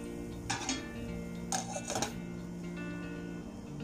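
A metal lid is set onto a pot of potatoes being cooked for a tuna, potato and lettuce salad, giving two short clattering clanks over a steady background hum.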